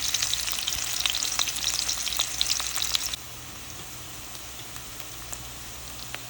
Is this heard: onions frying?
yes